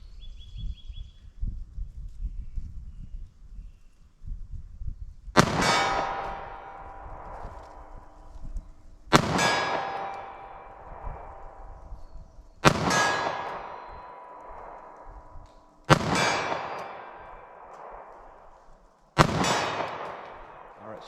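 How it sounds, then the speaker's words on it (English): Five loud 9mm pistol shots ring out at a 40-yard outdoor range, each a sharp crack with a ringing metallic clang from steel targets, spaced roughly three to four seconds apart over a low breezy background. "I'm gonna see what I can do here with our 9mm. See if I can make any hits."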